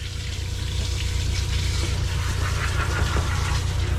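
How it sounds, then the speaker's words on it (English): Warm water runs steadily over a small Yorkie during a hand bath, a continuous close splashing flow with a low hum underneath and no talking. "So I'm just going to get him wet with some nice warm water."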